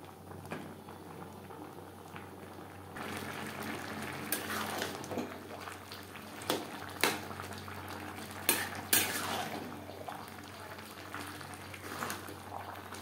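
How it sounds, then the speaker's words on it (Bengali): Chopped bottle gourd cooks over a high flame with mustard paste and grated coconut while a spoon stirs it in the pan. Intermittent metallic scrapes and clinks sit over a steady bubbling sizzle, louder strokes punctuating the continuous cooking noise. "সর্ষে বাটা ও নারকেলের সাথে 3-4 মিনিট নাড়াচাড়া করে নেব।"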